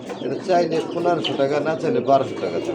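A male red magpie pigeon coos close up in a short run of soft, rolling calls, repeated several times under someone speaking nearby.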